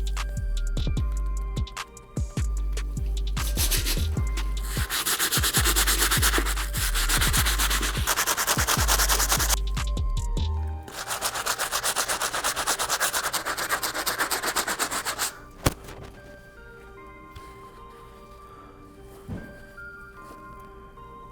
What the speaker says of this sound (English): So the first brush we're gonna be using is a stiff bristle brush to go over the entire thing.